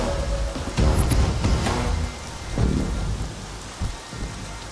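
Heavy rain falls steadily in a movie scene and low thunder rumbles beneath it, loud and continuous with no talk.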